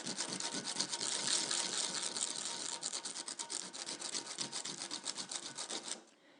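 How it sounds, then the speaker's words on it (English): A hand file rasps steadily across small metal dock bollard castings for a model, squaring the bottoms in a fast, continuous run of close strokes that stops abruptly near the end. "It's just a case of getting your file out and filing, and I want the bottom to be square."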